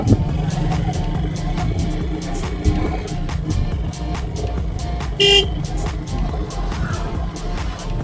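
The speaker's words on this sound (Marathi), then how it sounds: "आणि समोर ज्या गाड्या जात आहेत त्या म्हणजे समृद्धी महामार्ग" Vehicles pass along the Samruddhi expressway near Kukse village in a constant traffic rumble heard from nearby, with a short horn toot partway through.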